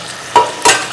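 Whole spices such as black and green cardamom and fennel seeds being stirred with chicken in a hot pot for Kashmiri pulao; two short scraping stirs stand out over a low, steady sizzle, with no talking.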